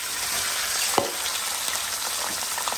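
Chicken, about 1.5 kg, frying in hot ghee for restaurant-style chicken karahi, a steady close sizzle with a single sharp crackle near one second and faint scrapes, no talking.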